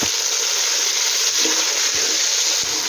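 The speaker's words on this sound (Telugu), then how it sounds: "ఆనియన్స్ని కూడా వేసేసుకుందాం ఇంకా కొన్ని చిల్లీస్ ఇంకా టమాటోస్ ఇంకా ఒకసారి మిక్స్ చేసుకుందాం" Onions, chillies and tomatoes sizzling in a pan for vegetable pulao, a steady loud hiss with a few soft scraping stirs of the spoon.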